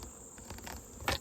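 Honey bees buzz around a strong hive while colonies are being equalized in late summer, a faint, steady insect drone with a few brief louder passes close by.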